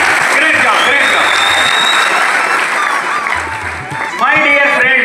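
Applause from an audience at a motivational talk: loud, continuous clapping from many people, with a voice speaking over it.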